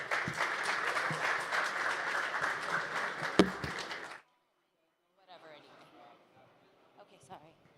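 Audience applause follows a panel presentation at a blockchain conference: a full round of clapping that stops abruptly, then a quieter stretch of speaking and a few stray sounds.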